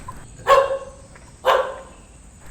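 A dog at a Swami Samarth math in Rajapur barks twice, two sharp, fairly close barks about a second apart over quiet background.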